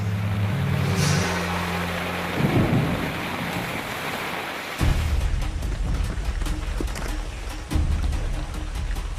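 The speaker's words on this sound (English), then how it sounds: "To wait out the storm" Steady heavy rain hisses throughout in a rainforest while a low rumble of thunder rolls in and swells midway, with a few louder rumbling bursts after.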